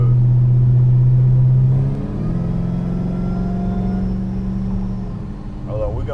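A 1200+ horsepower Hellcat engine roars from inside the car, a deep steady drone that shifts pitch upward as it revs, then settles back into a loud rumbling hum, constant and close throughout.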